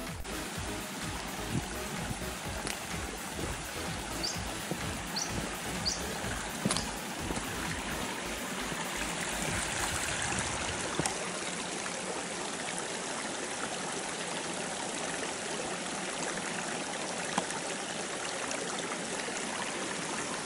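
The river at Kangaroo Creek runs in a steady, close, rushing babble of flowing water that continues unbroken throughout, with no voices.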